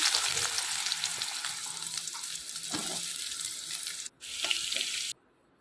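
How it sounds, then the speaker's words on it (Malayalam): Steady, loud sizzling of onions frying in hot coconut oil with popped mustard seeds, a broad hiss that briefly dips near the end and then cuts out. "ഇനി നമുക്ക് ഉള്ളി ഇട്ട് കൊടുക്കാം"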